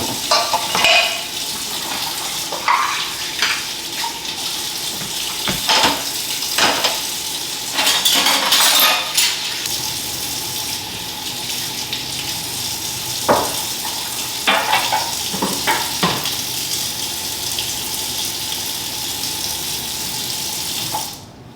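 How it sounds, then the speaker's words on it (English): Dishes are washed at a kitchen sink, with running tap water throughout, broken by repeated clinks and clatters of cutlery and dishware before the water keeps on steadily near the end. "I just love doing the dishes."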